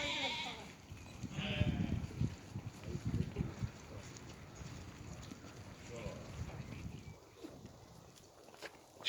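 Sheep and lambs bleat faintly in a flock kept for sale, scattered calls at a distance under ongoing conversation and light wind.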